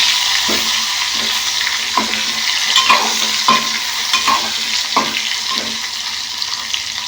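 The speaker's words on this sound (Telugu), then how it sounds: "లో ఫ్లేమ్లో పెట్టుకొని మంచిగా ఇలా వేయించుకోవాలి" Stuffed brinjals fry in oil in a pan on a low flame for a Telugu gutthi vankaya curry, making a loud, steady sizzle punctuated by regular spatula knocks and scrapes, with no voices.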